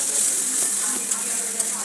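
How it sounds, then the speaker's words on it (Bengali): Small shrimp sizzling in hot oil in a pan, cooked with pumpkin, a steady bright hiss of frying with faint stirring clicks, continuous and close throughout. "এই যে ছোটো ছোটো চিংড়ি মাছটা দিয়ে দিলাম। এখন ভালোভাবে কষিয়ে নেব।"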